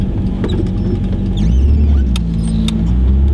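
A 1978 Fiat X1/9 with a 1.5-liter inline-four runs steadily, a loud low engine drone and rumble heard from inside the car with a few light rattles and clicks.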